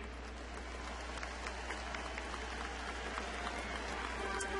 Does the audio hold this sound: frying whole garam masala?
no